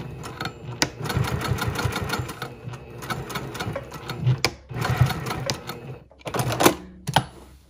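A sewing machine stitches through a bag, its rapid mechanical needle chatter running in steady bursts across the clip with brief pauses between runs, close and fairly loud with no talking.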